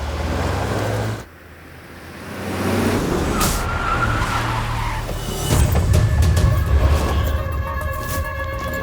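A car skids during a movie chase: engine roar, a sudden cut, then squealing tires and rising motor noise, loud and close with some clatter toward the end.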